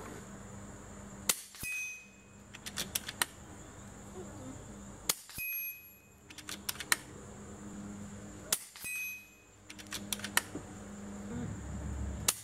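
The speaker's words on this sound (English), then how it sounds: "I shot a few extra rounds on that just to see if it was me or the gun." Air rifle firing JSB Hades pellets at a target 75 yards away, outdoors: sharp isolated cracks in small clusters, several shots spaced seconds apart, each followed by faint distant ticks over a steady background hum.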